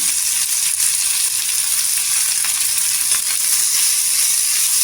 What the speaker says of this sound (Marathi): छान असं तेलावर परतून घ्यायचं